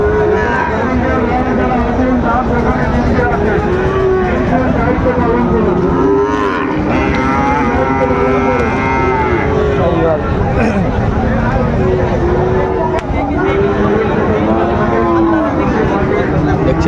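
Sahiwal bulls and calves moo repeatedly at a busy cattle market in Dinajpur, with loud, drawn-out calls rising over constant crowd chatter and bargaining voices.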